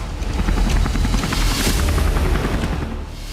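A Jordanian Air Force helicopter in flight gives a loud, close, thumping rotor drone that holds steady and eases slightly near the end.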